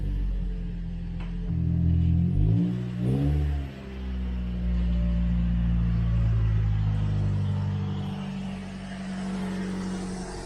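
A Toyota Corolla with an aftermarket Borla exhaust revs close by, a deep rumbling idle swelling through a few throttle blips early on before settling into a steady, low drone.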